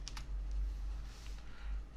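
Keys tapped on a computer keyboard while entering a spreadsheet formula: a short run of quick clicks at the start, then a few lighter scattered taps over a low steady hum, with no voices.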